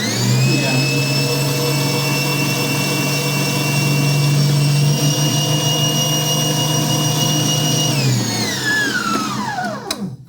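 A digital stand mixer runs at its top speed, 11, with a loud, steady motor whine for about eight seconds, then winds down with a falling pitch.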